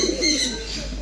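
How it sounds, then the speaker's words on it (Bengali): Pigeons at Sidkeong Bird Park in Pelling give a brief, soft, throaty coo close by, lasting about a second. "নর্মাল পায়রা না এগুলো?"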